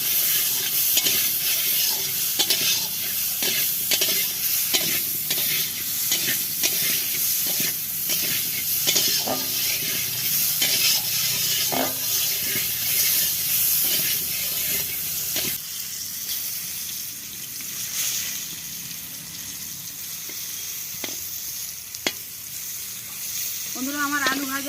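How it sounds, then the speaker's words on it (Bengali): Potatoes seasoned with salt and turmeric sizzle steadily in hot oil, with frequent stirring scrapes and taps of a spatula against the pan throughout. "লবণ আর হলুদ দিয়ে আমি আলুটা ভেজে নেব।"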